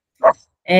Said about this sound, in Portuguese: Gente, desculpa o latido.